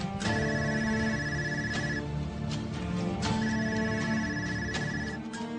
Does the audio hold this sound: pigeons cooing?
no